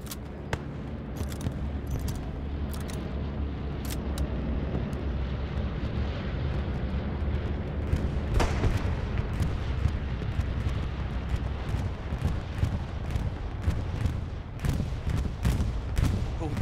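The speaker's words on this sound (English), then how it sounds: "Double bomb and run on the bridge, I think." Bombs from a double bombing run strike a bridge in the World War II shooter Hell Let Loose, with heavy rumbling blasts and crackling gunfire layered over a steady roar throughout.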